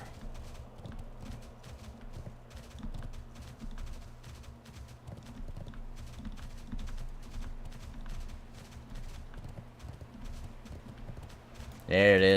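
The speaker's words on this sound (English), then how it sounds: "Let's hop on our horse. Go for a little jaunt." A ridden horse's hooves clip-clop in a steady rhythmic gait in World of Warcraft, continuing evenly throughout with a brighter burst of sound right at the end.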